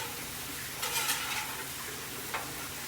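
Mushrooms and garlic sauté on a hot griddle with a steady soft sizzle, and a few brief scraping stirs of a utensil rise above it.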